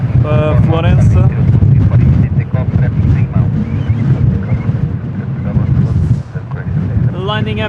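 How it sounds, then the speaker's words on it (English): Strong wind gusts at Lisbon Airport buffet the microphone with a loud, continuous roar, while voices talk over it at times. "Umas rajadas aqui bem fortes."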